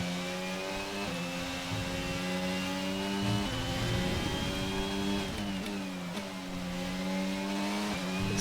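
An F1 car engine in the F1 22 racing game at the Belgian Grand Prix, revving hard and climbing through the gears with steady rising whine and brief dips at each shift, loud and continuous.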